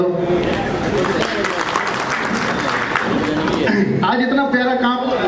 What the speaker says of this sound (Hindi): तो इस बात के लिए भी जोरदार तालियां बजा दो